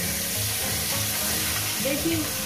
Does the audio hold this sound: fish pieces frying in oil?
yes